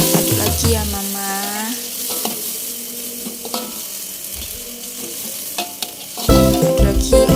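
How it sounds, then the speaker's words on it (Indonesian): Bean sprouts and cabbage fry and get stirred for mie Aceh, a loud steady sizzle under repeated scraping strokes through the pan, with a brief tonal squeak early on and a burst of heavier clatter near the end. "Masukkan toge, buah kol. Aduk lagi ya Mama."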